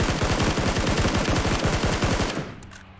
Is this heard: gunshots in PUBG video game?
yes